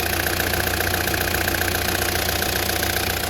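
A Peugeot Partner with a 1.9 engine idles steadily and close by, with a continuous even running sound and a light knocking rattle, no voices.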